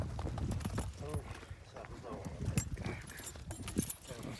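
Heavy draft horses' hooves clip-clop in a loose, uneven rhythm close by, with people talking over them and a faint metallic jingle.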